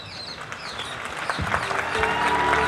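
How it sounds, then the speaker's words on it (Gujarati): Applause from an audience at an inauguration ceremony, a dense patter of clapping that swells and grows louder toward the end, with faint voices mixed in. "જોરદાર તાળીઓથી આપણે વધાવીએ."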